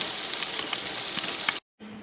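Fried green tomatoes crackle and sizzle steadily in hot oil, a bright, busy hiss that cuts off abruptly, followed by a quieter hum.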